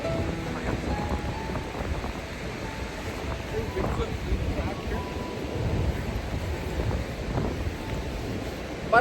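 Sea surf on a cold beach where people walk and jog with dogs, heard as a steady, close wash of waves mixed with heavy wind rumbling across the microphone.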